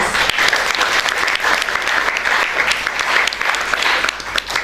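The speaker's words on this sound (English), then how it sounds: "Can we have a huge round of applause for our achievers?" An audience applauds achievers at an awards ceremony honouring young scientific talent, a steady, dense wash of clapping that holds loud and even for the whole stretch with no talk over it.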